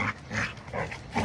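Dogs at home sound off briefly in a short burst of barking and yipping, close and fairly loud, with a few quick barks and whimpers running together.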